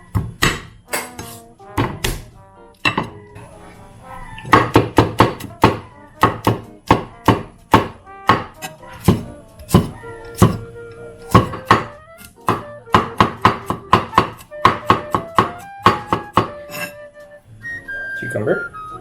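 A knife chops garlic on a chopping board in a kitchen, a long run of sharp, rhythmic thunks in quick bursts with brief pauses, close and loud.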